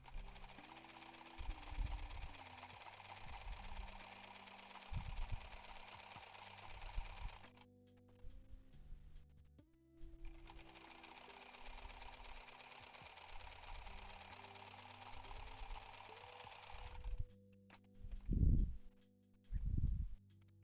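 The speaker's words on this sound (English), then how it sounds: "This is another one that's got the little fold. Just sew right over it." A sewing machine stitches across a folded fabric edge in short runs with pauses, a soft mechanical whirr and clatter starting and stopping beneath a steady background hum.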